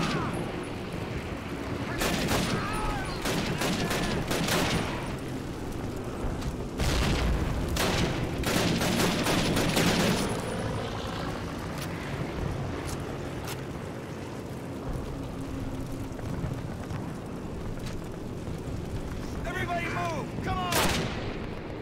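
Gunfire fills a battle in the original Call of Duty game: constant loud volleys, bursts and booms over a dense rumble of battle noise, with a player's voice occasionally under it.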